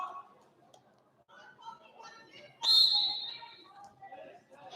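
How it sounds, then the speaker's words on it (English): A referee's whistle at a high school wrestling match gives one sharp, loud blast partway through, surrounded by gym crowd noise and an announcer's commentary. "A little shot attempt there right off the whistle there by Naylor from Oak Hill, defended by Trail."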